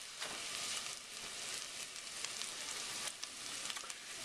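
Oil heating in a pan and sizzling steadily, a dense, even crackle and hiss close up with no voice over it.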